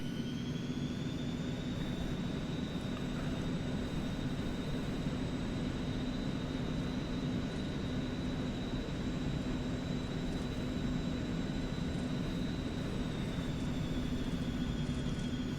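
An airplane in the X-Plane flight simulator taxis under heavy thrust, its jet engine giving a steady, loud whine with a constant high tone over a broad roar that holds unchanged throughout.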